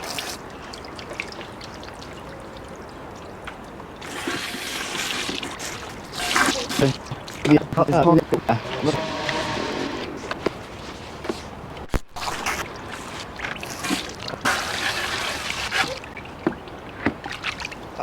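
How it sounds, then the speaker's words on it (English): Water pours and splashes out of a fish bucket after power-jet washing during shark chum preparation, coming in uneven gushing bursts with pauses, fairly close and loud. "That's the water. That's all just come out of it."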